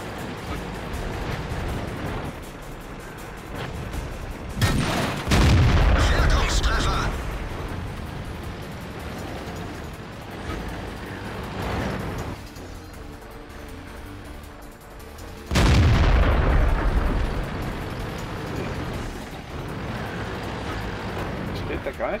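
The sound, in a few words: tank cannon fire in World of Tanks video game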